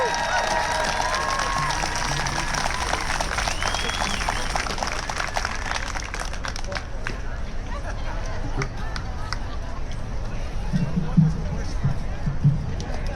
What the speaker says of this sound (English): Let's give Noel a round of applause.